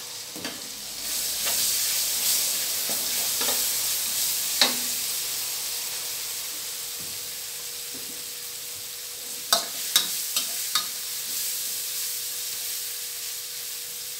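Thai chili curry paste stir-fried in a pan for a pork crackling chili dip, giving a loud continuous hissing sizzle with occasional clacks of a spatula, and no voices.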